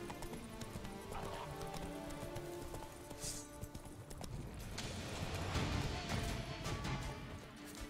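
Roach, a horse in The Witcher video game, gallops with rapid rhythmic hoofbeats. A whinny rises briefly over a low layer of game ambience, and the hooves stay close and fairly loud throughout.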